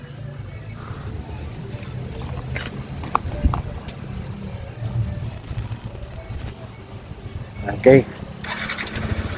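A Yamaha NMAX v1 scooter engine idles after a coolant flush, a steady low rumble under nearby talk and a few clattering handling noises.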